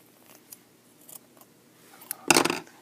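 Scissors snip through knitting yarn after the last stitch is cast off, a few faint clicks followed by one crisp, close cut near the end.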